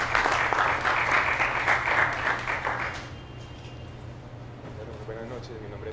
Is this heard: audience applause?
yes